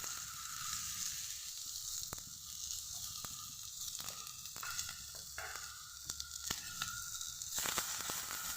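Onions sizzle steadily in a pan as momo filling is cooked, a soft continuous hiss with occasional small pops and stirring scrapes, fairly quiet and without talk.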